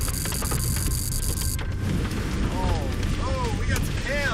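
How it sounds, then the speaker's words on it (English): Hail striking metal and surfaces inside a severe thunderstorm near a tornado, a dense continuous clattering roar with wind and rain, loud and close, with brief chirping tones near the end. "That clanging is major hail."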